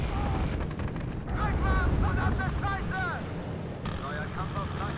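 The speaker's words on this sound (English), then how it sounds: "Panzerjäger's going to be forced to unload here as the mechanized rifles open up again." Mechanized rifle fire in the WARNO war strategy game: bursts of gunfire and battle noise, fairly loud and dense, with indistinct voices mixed in.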